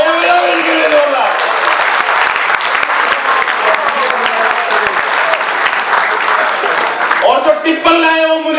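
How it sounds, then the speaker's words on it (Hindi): A comedy-show audience claps loudly and continuously throughout, a thick wash of many hands. Voices call out faintly over it, and a clearer voice cuts in near the end. "तालियां बजाओ इनके लिए जोरदार।"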